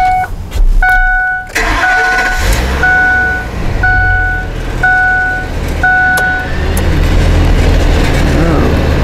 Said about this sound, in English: So let's get this truck fired up and we'll go from here.